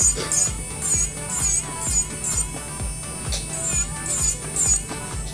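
An electric nail file bevels down a nail edge at medium speed, giving a steady high whine with rhythmic grinding pulses as the bit repeatedly touches the nail, close and alone.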